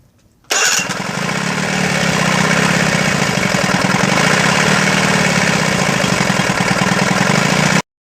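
A Johnson 15 HP outboard motor fires up abruptly after a brief quiet moment and settles into a loud, steady idle that runs close by for about seven seconds, then cuts off sharply.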